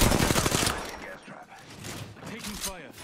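Gunfire in the battle royale game Apex Legends: a dense burst of rapid shots fills the first part, then thins out while voices talk over the mix.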